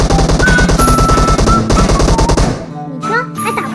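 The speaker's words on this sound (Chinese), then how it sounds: "他不管不顾就是开枪。" Rapid automatic gunfire in a video game, a loud, evenly spaced burst of shots lasting over two seconds, then cutting off to quieter game sounds and a voice.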